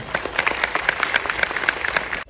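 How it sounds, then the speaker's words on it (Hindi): An audience at a movie premiere in Arunachal Pradesh claps for special guests, brisk uneven applause from a modest group, moderately loud and cut off abruptly. "प्लीज हमारे तमाम खास मेहमानों के लिए जोरदार तालियां बजाएं।"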